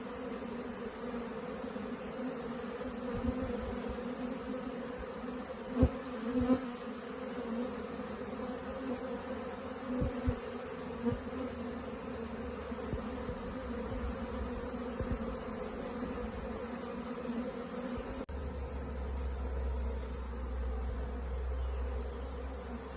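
A honey bee swarm drones in a dense, continuous buzz as it streams into a hive after being moved from a toilet. The sound stays steady and close, with a few louder passes of individual bees near the microphone.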